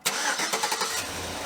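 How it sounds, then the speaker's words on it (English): A Chevy Suburban engine cranks and fires up just after a battery replacement, a brief starter whir followed by the engine catching and settling into a steady, close idle, with no talking. "I'll double check and make sure the car starts"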